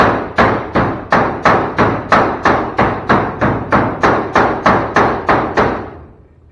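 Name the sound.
hammer smashing rusty metal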